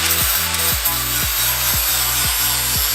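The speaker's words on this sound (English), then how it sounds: "gonna go over it with the flappy wheel now and smooth it all down" A flap wheel on a grinder smooths down metal during a budget turbo LS engine build, with a loud, harsh abrasive hiss that pulses in regular strokes about twice a second.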